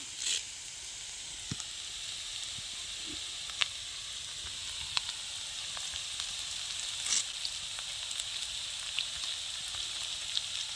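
Onions and curry leaves fry in oil for a village-style egg roast, giving a steady close sizzle and hiss with scattered crackling pops throughout, and no voices.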